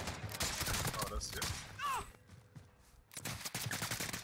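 Bursts of gunfire in Call of Duty Warzone crackle in clustered volleys during a street fight, dropping briefly to near quiet before another rapid burst, with players' voices talking over the action.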